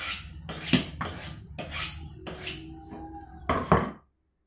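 Rasping strokes of sanding on a kitchen pen-knife blade, about six rhythmic back-and-forth passes, close and fairly loud, ending abruptly.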